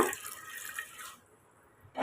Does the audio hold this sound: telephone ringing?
no